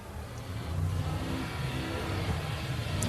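An Extreme two-wheel-drive class off-road race car at the Loveday 400 roars past at the finish line, its engine revving loud and sustained with a rough mid-range drone and gear changes, no talk over it.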